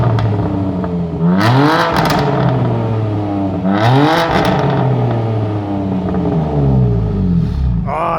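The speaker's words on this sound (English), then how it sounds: "Awesome rev time there." A 2017 BMW M4 Competition Package in Frozen Black, fitted with black tailpipes, revs its exhaust twice in loud rising-and-falling blips over a steady idle rumble, close by, with a third rev starting at the end.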